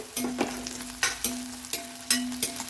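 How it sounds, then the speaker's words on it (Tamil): Onion and coconut sauté in coconut oil for a potato gravy, a steady close sizzle broken by several loud scraping stirs of the spoon through the pan, with no talking. "வெங்காயம் இந்த ஆயிலே நல்லா வதக்கலாம்."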